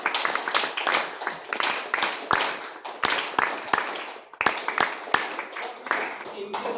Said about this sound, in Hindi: जबरदस्त ताली चाहता हूँ।